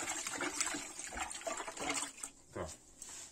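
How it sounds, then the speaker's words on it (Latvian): Food being washed in salted water, with soft splashing and trickling of water continuing throughout, close and fairly quiet. "Sāls ūdenī mazgāju."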